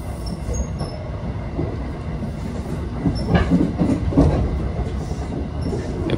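Inside the Thunderbird limited express bound for Tsuruga, crossing from Shiga into Fukui on the Maibara detour, a steady low rumble of wheels on rail carries throughout, with light rhythmic clatter swelling midway.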